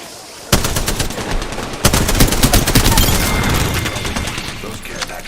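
Heavy video game gunfire: rapid machine-gun bursts with sharp onsets, sustained loud over several seconds, with a voice briefly present.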